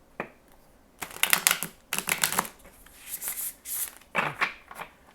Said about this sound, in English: I feel like this needs one more shuffling.